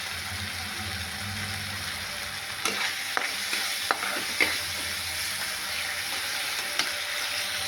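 Spice paste being stir-fried in a pan for a vegetable curry, a steady sizzle broken by several sharp scrapes and knocks of the spoon against the pan, with no talking.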